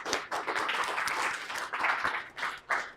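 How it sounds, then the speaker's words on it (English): An audience claps to welcome a speaker to the stage at a university event: scattered, lively applause with individual claps standing out, moderately near and rising and falling over a few seconds. "so please give her a round of applause"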